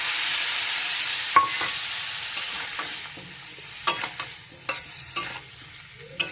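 Spiced water goes into a pan of frying shing fish curry, setting off a soft, steady hiss with scattered sharper pops and crackles as it sizzles.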